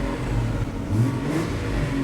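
A Ferrari Ford methanol-fuelled car engine runs after starting, a steady low, throaty idle through a quiet exhaust with slight swells in revs, close and continuous.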